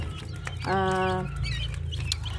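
Rhode Island Red chickens cluck and call near the microphone, one clear drawn-out vocal note standing out over a steady low background hum.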